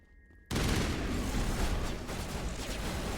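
Sustained gunfire erupts in a Mass Effect video game battle, a loud, dense fusillade of weapon fire bursting in suddenly after a quiet moment and continuing without pause.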